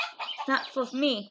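A phone notification tone made of chicken clucking sounds, a short run of bird-like clucks heard close and fairly quiet, with a voice speaking briefly over it.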